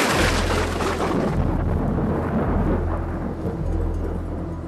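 A lightning storm unleashes a long, loud rolling thunderclap, deep rumbling that sustains and slowly fades over a wash of rain-like hiss, with no voices.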